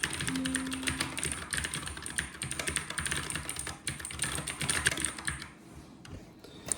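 Fast, continuous clacking of a mechanical keyboard in a budget gaming setup, close and fairly loud, keystrokes rattling in quick uneven bursts before tapering off near the end.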